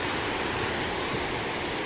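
Moderate ocean waves break and wash continuously in a broad, steady roar of surf, fairly close and even in level with no distinct individual crashes.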